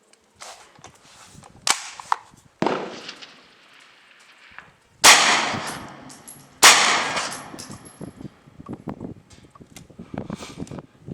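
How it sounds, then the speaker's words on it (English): Ruger PC-9 9mm carbine firing at a target, with about five sharp, loud shots at uneven intervals, each trailing off into a ringing outdoor decay. "let's see if I can't keep a couple of rounds in a bullseye there"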